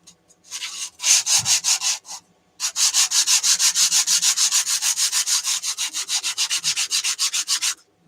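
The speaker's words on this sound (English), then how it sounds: "will I regret sanding this one?" Rapid back-and-forth rasping of sandpaper on wood by hand, a short burst then a long steady run of even strokes, close up.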